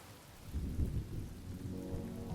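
Steady rain and low rumbling thunder during a storm, a continuous wash of downpour with a heavier roll building midway, no voices.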